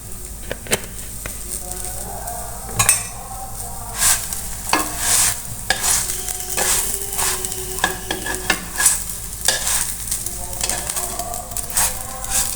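A little white oil hits a pan holding flatbread stuffed with chicken or egg, and a loud, close sizzle follows. Stirring scrapes and a few clinks continue throughout, with no talk.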